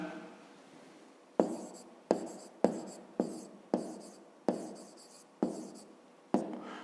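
Pen or pencil writing answers to a fifth-grade math exercise in a notebook, a run of eight sharp taps and strokes roughly every half second or so, close and distinct, each trailing off into a soft scratch.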